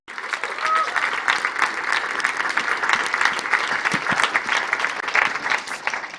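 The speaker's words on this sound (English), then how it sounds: "please welcome me with a big applause for Omina, the youth envoy from the COP27 presidency" A large audience at a youth climate dialogue on adaptation action bursts into dense, continuous applause that stays loud and steady throughout.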